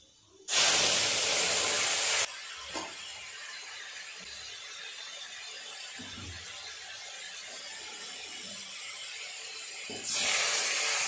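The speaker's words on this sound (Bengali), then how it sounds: "এবার ঝোলটা এর উপরে ঢেলে দেব" A sudden loud hiss as fish curry broth is poured into hot oil with fried five-spice seeds, settling into a steady sizzle, then another sharp burst of hissing at the end.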